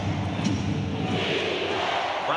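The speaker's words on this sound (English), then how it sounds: "Crowd chanting defense." A large arena crowd at an NBA Eastern Conference Finals game between the Bulls and the Cavaliers roars and chants steadily, a dense, continuous rumble of many voices.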